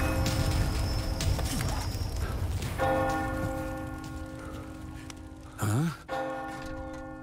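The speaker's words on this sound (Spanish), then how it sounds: "La campana." Church bell tolling in the Resident Evil 4 Remake video game village, with sustained ringing tones that swell in from the middle and hold to the end, a brief vocal gasp or sigh rising over them near the close.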